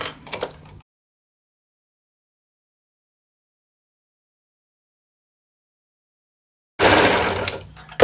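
Sewing machine stitching the armholes of a dress, a short burst of rapid close stitching, a long silence, then another steady run of stitching.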